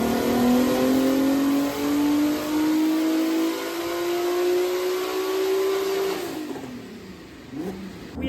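A turbocharged six-cylinder VW Caddy revs hard on a dyno, its engine note climbing steadily for several seconds, then dropping off as the throttle closes, loud and close.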